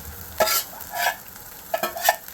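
Pre-cooked onions sizzle in a very hot balti curry pan while being stirred in a Birmingham-style curry, with several scraping, clattering stirs over a steady frying hiss and no talking.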